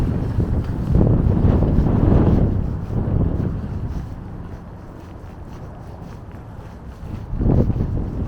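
Wind gusting along a city street on a winter night in Toronto's Broadview Chinatown, a steady low roar and buffeting that swells loudly in a few strong gusts and eases between them, with no talk.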